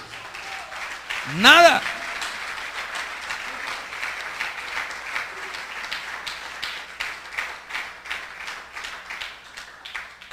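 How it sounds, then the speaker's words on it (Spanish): A church congregation applauds for the Lord after a sermon passage, a steady rhythmic clapping that follows a short spoken word and keeps going at moderate loudness throughout. "¿Cuánto le dan el aplauso al Señor?"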